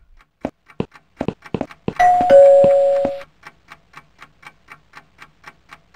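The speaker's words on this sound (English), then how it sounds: "Now ring the bell, I guess." A hotel reception desk bell in the video game Downfall is struck once, giving a bright, clear ding that rings for about a second. Steady clock-like ticking can be heard before and after it.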